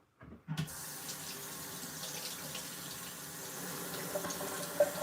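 Tap water runs steadily into a kitchen sink while beans are rinsed for hummus, a constant close rushing stream that starts abruptly after a moment of quiet and carries on alone.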